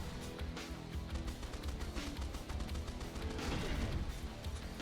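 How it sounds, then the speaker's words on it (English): Repeated explosion bursts from the alien-swarm shooter Swarm Grinder, sharp crashing blasts layered over continuous dense game noise and music, fairly loud throughout with no talking. "Yeah, so there are explosions that are happening"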